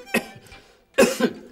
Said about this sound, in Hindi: ओ तुम्हें तो खांसी है